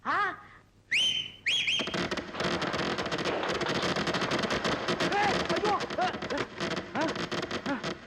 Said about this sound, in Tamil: டேய், என்னடா அது விசில் வேட்டு சத்தமா?